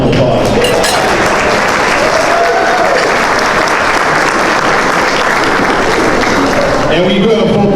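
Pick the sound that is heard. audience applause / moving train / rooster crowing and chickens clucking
audience applause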